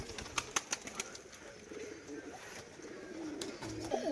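Soft pigeon cooing, including from crested pigeons, sounds nearby amid sharp clicks and a few wing flaps, with low background murmur.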